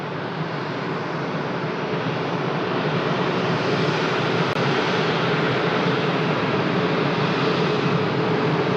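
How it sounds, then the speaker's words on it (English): An Airbus A330neo departing Lisbon for Salvador, Brazil, fills the air with a loud, dense, unbroken engine roar that stays level from start to finish, with no talking. "We have Airbus A330neo to Salvador, Brazil."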